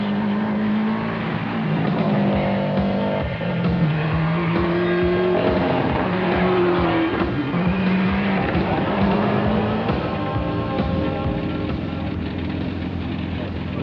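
A 1998 rally car on the Cavan Stages Rally is heard from inside, its engine droning steadily and rising and falling through gear changes, loud and continuous beneath a co-driver's pace-note calls.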